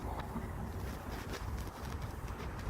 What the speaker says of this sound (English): Might be just way too windy for me today.